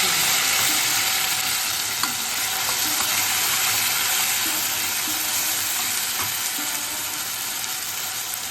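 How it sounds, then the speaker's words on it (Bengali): A paste of cumin, ginger and green chilli fries in a pan after potatoes for a Bengali banana flower ghonto, giving a loud, continuous, close sizzle with occasional faint spatula clicks. "এবার আমি জিরে আদা আর কাঁচা লঙ্কা বাটা দিয়ে দিই"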